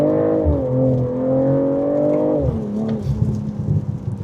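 A 2025 BMW M340i engine revs hard toward 7,000 rpm, a loud steady rising drone heard from the cabin, then it eases off as the pitch drops and settles.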